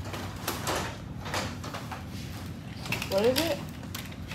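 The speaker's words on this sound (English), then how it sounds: "Why would that door be blowing around?" An indoor door rattles and clanks in gusts of tornado wind, with a steady rushing background and a person briefly talking.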